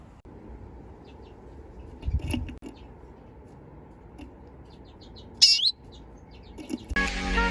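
Chirps from finches, including cobalts kept with redpolls, sound from a bird shed: scattered short high calls, one louder burst near the middle, over a steady low hum, with a rustling clatter at the end.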